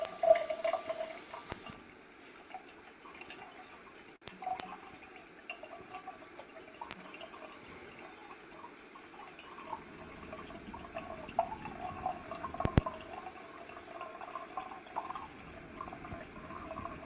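An Enagic Kangen water ionizer dispenses water at home with a soft, steady trickle and faint splashing, low in level, with a few sharper drips and clinks along the way.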